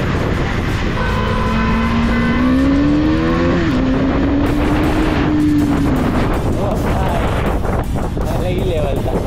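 KTM Duke 250 motorcycle accelerating hard on a city road at night, its engine note climbing and shifting in a loud, steady roar with wind and traffic noise around it.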